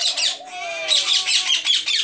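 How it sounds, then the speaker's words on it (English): Several pet parakeets chirp and warble close by in a continuous, busy stream of bright tweets, with a few longer whistled notes woven through. "But these are my parakeets, all adoptions."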